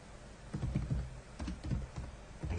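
Keys clatter steadily on a computer keyboard as a value is entered into AutoCAD Electrical software, a fast, even run of close clicks with no talk over them.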